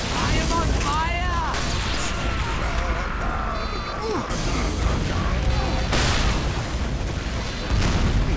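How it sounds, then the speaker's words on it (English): Repeated booming blasts from Demoman grenades in Team Fortress 2 on the Viaduct map, dense and continuous game combat noise with overlapping explosions and player voice chatter throughout. "Whoa, I'm getting blown up."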